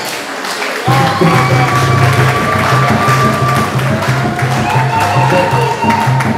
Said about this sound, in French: Si l'on peut l'applaudir maintenant